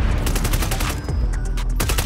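A sniper flamethrower in a shooter video game fires in a rapid burst, a loud stuttering volley of sharp blasts repeating over about two seconds, with no talk.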